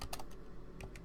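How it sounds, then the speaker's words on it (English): Quick, light keystrokes on a computer keyboard, a handful of close clicks in an uneven rhythm over faint background hum. "we're going to type in"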